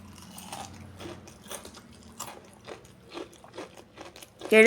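Crispy chilli bajji fritter, a green chilli coated in gram flour batter and deep fried, being bitten and chewed, giving a series of crunchy crackles and soft chewing sounds close to the mic, ending in a louder burst.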